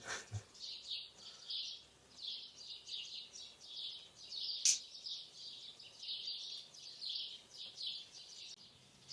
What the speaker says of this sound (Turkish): Kuş sesleri nasıl? Çok iyi değil mi?